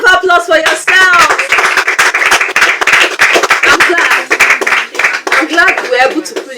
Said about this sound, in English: Please, a round of applause for yourself.